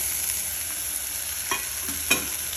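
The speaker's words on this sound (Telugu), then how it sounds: "నేను దీంట్లో ఇప్పుడు టమాటాలు వేస్తున్నాను" Tomatoes drop into a frying pan of cabbage curry with a steady sizzle, two soft thumps standing out near the middle and end of the moment.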